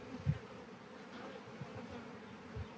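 Honey bees hum steadily at an open beehive during a beekeeping field day, a low continuous buzz with a few soft knocks, fairly faint and without talk.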